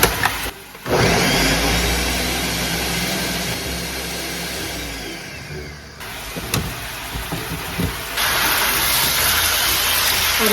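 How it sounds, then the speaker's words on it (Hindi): A kitchen mixer grinder chopping large pieces, a steady loud whirring drone that cuts out, restarts and pulses in short bursts near at hand, with no talk over it. "बड़े बड़े पीसेस करके इसमें डाल लें और इन्हें ग्राइंड कर लें"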